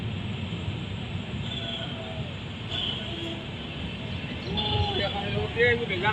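The 13125 Sairang Express from Kolkata to Sairang rolls along a curve beside a lake. Steady low rumble of the wheels runs throughout, with faint wheel squeals rising near the end.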